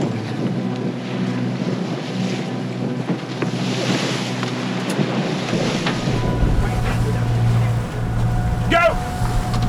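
Wind buffets a sailboat being sailed in the Caribbean, with rushing air and water noise around the hull and people talking over it close by.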